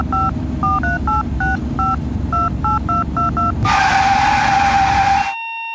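A rapid run of mobile phone keypad dialing tones, about a dozen short beeps in an even rhythm, then a steady ringing tone before a cut to silence, set over a low rumble of road noise.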